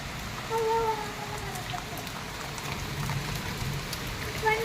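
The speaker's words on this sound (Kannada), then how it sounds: "ನೋಡ್ರಿ ಎಷ್ಟು ಮಳೆ ಬರತ್ತತಿ" Steady heavy rain hisses continuously, a broad wash of falling water with a few faint voices and thin tones in the background.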